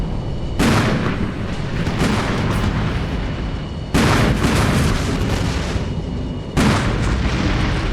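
Rockets and explosions in the Armored Brigade 2 combat game, heard as a dense, continuous rumbling barrage with three sharp booming onsets, loud and close throughout.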